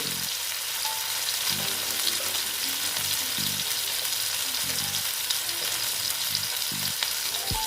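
Cumin powder frying in a pan for Bengali banana-flower mocha ghonto, a steady close sizzle with a series of regular scraping stirs.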